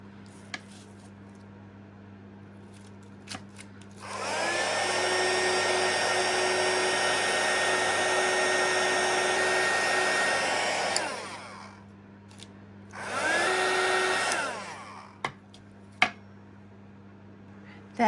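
Heat tool blowing hot air over embossing powder on a snowflake insert, a steady loud whirring hiss running for several seconds, stopping, then starting again briefly, with faint clicks and handling noises around it.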